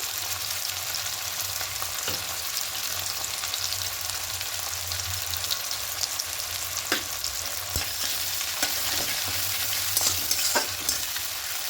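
Ginger garlic paste fries and is stirred in a pan during chicken moong dal cooking, a steady close sizzle with occasional sharp scrapes and taps of a spoon against the pan, no talking.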